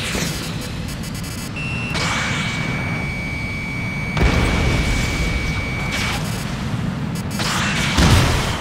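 A fighter jet fires in Ace Combat Assault Horizon. Loud, roaring bursts of cannon or missile fire and heavy booms ride over a constant engine drone and a thin, sustained whine.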